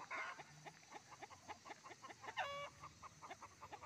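Chickens cluck steadily in a rapid, rhythmic patter, close by, with a short higher-pitched call breaking through partway.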